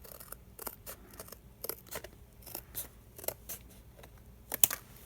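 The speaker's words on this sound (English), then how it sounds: "I'm just going to cut this cardboard off because I don't really want any cardboard sticking out." Scissors snipping through cardboard in quick, close crisp cuts, irregular bursts of sharp clicks and rasps with quiet pauses between, no talking.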